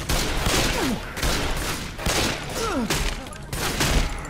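Rapid gunfire in the zombie shooter Left 4 Dead rattles in repeated dense bursts, loud and continuous, with short gaps between volleys and occasional whooshing game effects.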